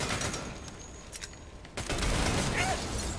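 Rapid gunfire from the Saints Row video game crackles in dense bursts, broken by a short lull before the shooting resumes at steady loudness, with someone talking now and then over it.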